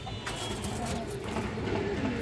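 Khoraghola pigeons at a farm coo softly amid steady background noise with a low rumble, birds nearby and continuous.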